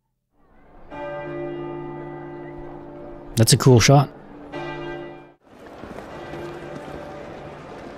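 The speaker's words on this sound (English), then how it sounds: "Or the bells, I guess." Church bells toll in a House of the Dragon scene, long sustained tones ringing out, briefly interrupted by a loud burst and a short spoken line, then resuming more faintly under a wash of ambient noise.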